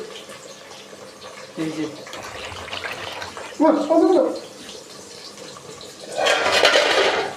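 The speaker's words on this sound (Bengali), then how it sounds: "তো এখন জল দিছি" Water pours into a cooking pot of hilsa fish and pointed gourd curry, a few splashy bursts of running water, the loudest near the end, with someone speaking briefly.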